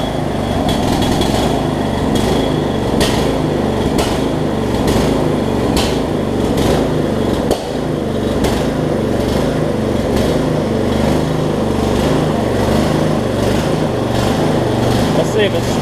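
Small engine of a Lowe's riding lawn mower running just after a new carburetor and new battery were fitted, a steady loud close drone with irregular knocks and rattles, holding constant throughout with a brief dip near the middle.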